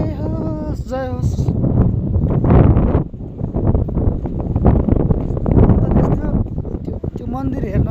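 Strong, cold mountain wind buffets the microphone at the Supa Deurali temple, a steady broadband roar with gusts running under a voice talking throughout.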